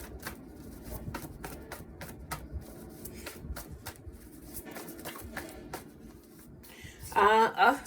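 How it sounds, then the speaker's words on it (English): Repeated crisp riffling bursts of cards being shuffled, one after another, over a quiet background, ending with a louder flurry of shuffling. "I don't shuffle these cards that good, but I'll shuffle anyway."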